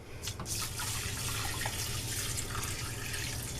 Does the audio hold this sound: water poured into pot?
yes